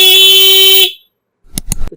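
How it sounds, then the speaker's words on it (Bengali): A PTI P70 pip horn fitted to a motorbike blares a loud, piercing tone for nearly a second. It stops abruptly and is followed by a few sharp clicks. "পিটিআই হর্ন বাজার শোনাচ্ছি আপনাকে"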